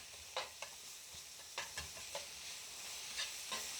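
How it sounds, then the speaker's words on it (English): Ground beef sizzles in a pan while a spatula breaks it apart, steady soft frying hiss punctuated by several sharp scraping taps at irregular intervals, close and without talk. "I'm just going to mix it up, let it cook a little longer all together as I break down the beef"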